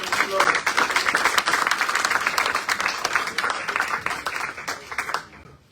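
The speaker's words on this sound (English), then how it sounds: "So let's give them a round of applause." An audience at an anniversary gathering gives the speakers a round of applause, with dense, close clapping that holds strong and then tapers off toward the end.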